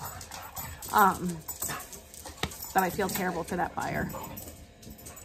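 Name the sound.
dogs whimpering and yipping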